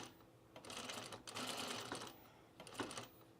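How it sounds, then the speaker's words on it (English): Sewing machine stitching cord onto a pajama top, running in steady bursts with brief pauses between them, close and fairly quiet with no talking. "I start sewing on the cord."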